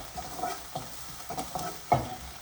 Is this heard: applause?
no